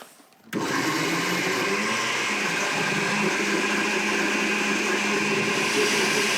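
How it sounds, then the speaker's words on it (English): An electric blender starts with a sudden roar and keeps whirring steadily as it purées onion and nashi pear for a Korean marinade, a loud, close, continuous motor drone with no talk. "Okay, and then we blend it."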